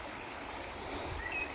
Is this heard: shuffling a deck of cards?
no